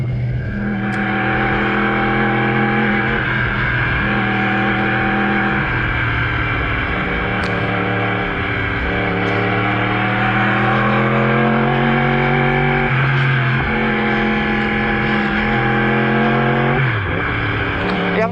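A 2018 Yamaha R1 sport motorcycle fitted with an Akrapovic Evolution Line full exhaust system is ridden in first gear through city streets. Its loud, close engine drones without a break, the pitch rising and dipping with the throttle.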